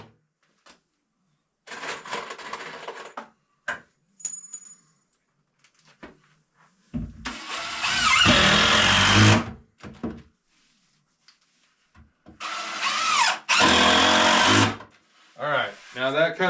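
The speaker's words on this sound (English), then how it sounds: "I'm going to go ahead and run a couple, 2 or 3 screws down in the backside into the 2x2 to hold it temporarily." A power drill drives two or three screws through the back into a 2x2 board while building storage shelves, each run a loud whirring burst of a second or two, repeated several times with pauses and short knocks between.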